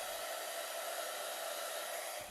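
A hair dryer blows hot air to soften a vinyl bicycle crank protector during wet application, giving a close, steady, loud whirring rush that holds evenly before cutting off at the end.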